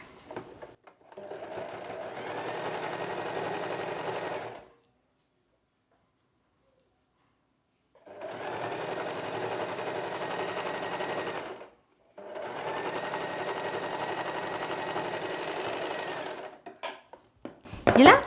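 An electric sewing machine stitches folded cloth in three sustained, steady whirring runs of rapid ticking, separated by silent pauses, close and moderately loud, with a clatter at the end.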